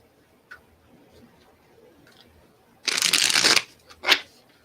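Cards shuffled by hands in fingerless gloves give a dense, loud riffling burst lasting about a second, followed by a short sharp snap as the deck settles, against a quiet background.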